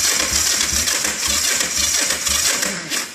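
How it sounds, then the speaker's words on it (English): Starter motor on a 1977 Yamaha XS360 motorcycle with a low battery, a labored rhythmic cranking churn repeating steadily up close without the engine catching. "so let's see if the starter will work."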